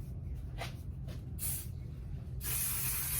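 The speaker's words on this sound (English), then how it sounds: "Get this setting spray from Juvia's Place." Juvia's Place makeup setting spray misted in short pumped hisses, one brief burst then a longer spray near the end, close and fairly quiet over low room hum.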